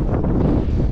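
Strong wind buffets the microphone on an open hillside walk in the Lake District above Ullswater, a loud, close, continuous rumbling roar over the brief moment.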